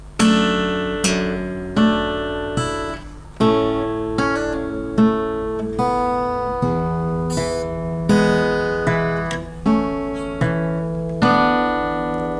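Guitar notes plucked one after another in a steady fingerpicked pattern, each ringing and decaying before the next, clear and close with no talking.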